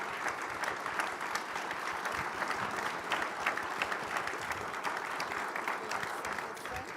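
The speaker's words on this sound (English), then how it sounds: "give a round of applause to our panelists here" Audience applause for conference panelists at a regional Hispanic leadership summit, a dense steady patter of clapping sustained at moderate level throughout.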